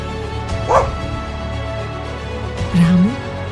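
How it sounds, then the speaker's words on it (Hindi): Dogs bark twice outside a house on a cold, foggy village night, one sharp yelp and then a lower bark, heard under a narrating voice and background music. "कुत्तों का भौंकना"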